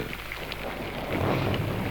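Steady rain falls in a continuous, even hiss with a low rumbling undertone, close and moderately loud with no voices.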